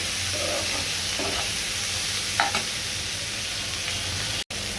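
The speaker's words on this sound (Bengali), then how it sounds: "হলুদ ছাড়া করলাটা ভাজি করে নিব" Bitter gourd fries in a pan with green chili, shrimp, salt and chopped onion, giving a steady, close sizzle with a few light stirring scrapes and a brief cut-out near the end.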